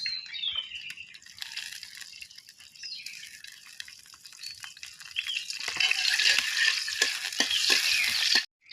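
Bay leaves and cardamom pods frying in hot soybean oil, a steady sizzle and crackle that swells louder in the second half, with scattered sharp pops and no voices.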